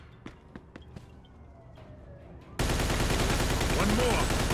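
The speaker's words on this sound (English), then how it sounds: "nice shot, Vito." Gunshots in the Mafia II video game: a few sharp isolated shots, then a sudden loud, dense burst of continuous gunfire that fills the rest of the clip.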